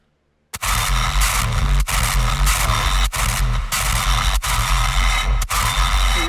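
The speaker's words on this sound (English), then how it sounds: "what's that weird sound? I mean, that's the Convolver." Convolver effect in a Minatory sound design patch: a dense, harsh, noisy drone starts abruptly after a brief silence, loud and continuous, broken by several sharp rhythmic dropouts, with no talk.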